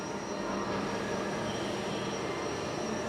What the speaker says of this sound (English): This is a CNC multi-spindle machine.